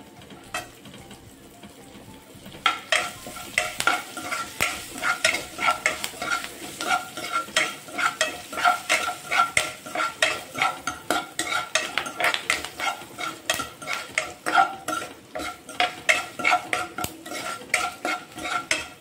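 Green chillies and curry leaves frying in a pan with cumin and urad dal, a soft sizzle under repeated scraping and stirring clinks of a metal spoon against the pan, starting after a quiet opening.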